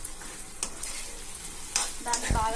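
Deep-browned fried chicken pieces for Chicken Manchurian are tossed through a hot oil mixture over high flame, a crackling sizzle under close scraping strokes of a spoon, with a louder clatter near the end and no talking.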